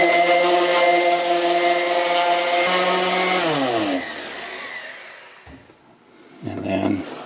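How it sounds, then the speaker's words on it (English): An orbital DA sander with 80 grit paper runs loud and steady against a Mercedes-Benz W126 S-Class wheel for about four seconds, its whine dropping as it spins down and stops, followed by a brief quieter clunk. "then I'll come back with a DA sander with an 80 grit"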